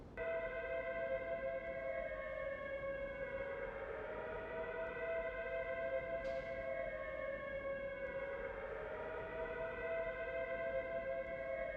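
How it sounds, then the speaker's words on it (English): Air raid sirens in the 2002 video game Prisoner of War wail continuously, loud and alone, their pitch sweeping slowly up and down in long overlapping cycles. "Have the chaps ready to move as soon as we hear those air raid sirens."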